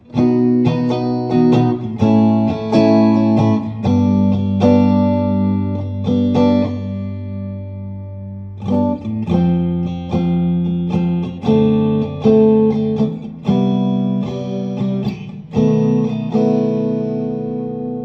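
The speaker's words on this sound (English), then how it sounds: "Let's try spring. So spring reverb." Electric guitar chords and single notes played through an Electro-Harmonix Oceans 3-Verb pedal on its spring reverb setting, sustained ringing phrases with a short break midway, loud and steady with no talk.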